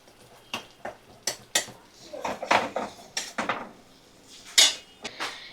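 Spices with a pinch of chilli powder are sautéed in a pan, heard as repeated scraping and clinking of a spoon against metal, irregular knocks close by with little sizzle underneath.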